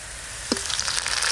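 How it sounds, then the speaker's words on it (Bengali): Chopped onions fry in a pan with a steady sizzle hissing continuously, with a brief clink of a utensil partway through. "পেঁয়াজ কুচি ভাজা ভাজা হয়ে গেছে"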